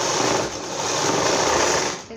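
A sewing machine runs continuously while stitching a designer blouse, a loud, even motor whir with dense rapid needle chatter that holds steady before tapering off at the end.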